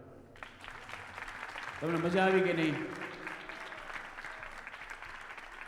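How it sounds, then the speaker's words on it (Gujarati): An audience claps steadily at a temple bhajan night, a broad, even patter of many hands filling the room while a voice speaks and briefly sings over it. "તાળી ચાલુ રાખો ભાઈ"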